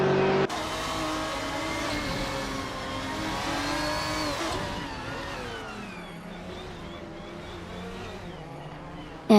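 A 2004 Ferrari 550 GTS race car engine drones loudly and steadily at high revs, shifting pitch midway as it changes gear, with other racing engines in the background.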